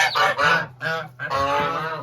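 Geese honking loudly and close by on a farm, several overlapping harsh calls in quick succession.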